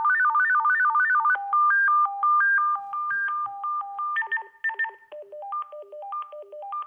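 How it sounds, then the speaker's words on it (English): Selectable call tones from a Motorola T605 FRS two-way radio play as a clear, close series of electronic beeping melodies. Quick stepped tone patterns change from one tune to the next with no voices. "there's 20 different call tones you can pick up from here as well"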